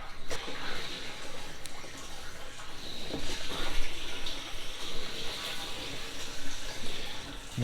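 Water from a 55-gallon rain barrel used as a chicken waterer drains out in a steady splashing gush, close and continuous with no talk.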